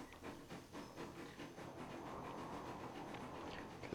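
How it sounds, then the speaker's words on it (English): Steam train in the Transport Fever 2 desert map, a steady hissing, rumbling rail-transport wash that holds at an even moderate level throughout, with faint chuffing texture and no talk. "make this the steam train"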